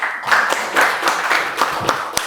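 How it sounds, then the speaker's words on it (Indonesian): A classroom gives a student a round of applause, a short burst of quick, fairly loud clapping from a small group that rises and falls over a couple of seconds, with no talking. "berikan aplaus temannya"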